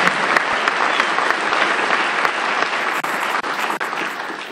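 An audience at a community choir concert applauds the choir members, a full, steady wash of clapping that holds throughout at moderate loudness.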